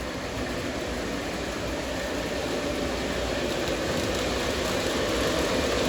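A Blue Comet model train runs past, giving a constant, even rumble and whir that holds steady throughout, with no one speaking.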